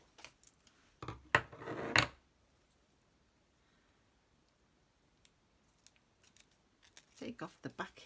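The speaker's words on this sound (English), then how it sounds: "So I'm going to cut out, I'm going to use the whole strip of dots." Scissors cutting out a strip of paper dots stickers, a few close, crisp snipping bursts separated by quiet pauses, with a voice speaking briefly at the end.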